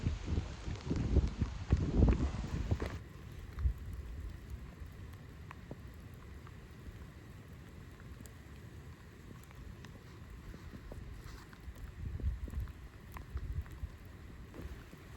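Rain falls in a strong gale, with a loud gusty wind roar over the first few seconds before settling into a steady hiss of rain and wind, swelling again near the end.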